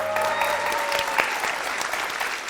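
A studio audience claps during a televised bread-baking contest, dense steady applause from many hands at close range, with no one speaking over it.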